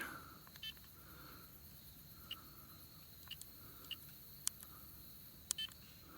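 A timer device gives a few short, faint electronic beeps, spaced irregularly as its timers are cleared, over a quiet outdoor background on a hiking trail.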